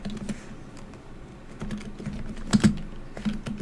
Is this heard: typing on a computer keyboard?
yes